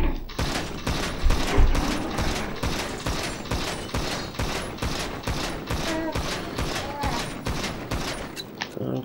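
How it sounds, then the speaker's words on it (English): Rapid run of heavy pistol shots fired in GTA V, about twenty sharp evenly spaced cracks over a steady loud backdrop of game sound, each report punchy and close. "We got the heavy pistol now."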